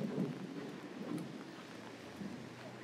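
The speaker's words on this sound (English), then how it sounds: "Just a light drizzle now." Light drizzle falling on the streets of Geylang, Singapore, a steady soft hiss of rain with a low, muffled rumble swelling now and then, fairly quiet and with no voices.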